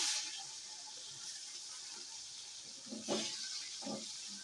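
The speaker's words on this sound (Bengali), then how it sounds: "গরম হয়ে গেছে, টমেটো দিয়ে দিচ্ছি।" Tomatoes drop into hot oil tempered with cumin, dried chili, bay leaf and five-spice, giving a steady, fairly faint sizzling hiss that swells briefly near the end.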